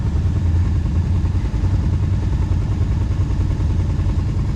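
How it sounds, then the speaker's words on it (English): A Can-Am Outlander 1000 ATV engine runs steadily on a pine trail ride, a loud, close, continuous mid-pitched rumble with faint clatter and no talk over it. "Okay, let me just get off my bike. I'm gonna park it."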